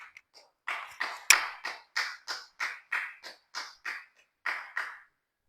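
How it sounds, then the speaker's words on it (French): Congregation applauding and acclaiming God in a church: about a dozen even, rhythmic hand claps in a steady beat, faint and slightly distant, with no voices. "Acclame encore puissamment le Seigneur."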